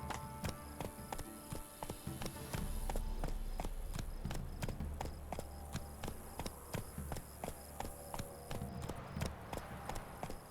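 Roach, Geralt's horse in the video game The Witcher 3: Hearts of Stone, clip-clops along with steady, rhythmic hoofbeats at close range, heard alone over faint game ambience.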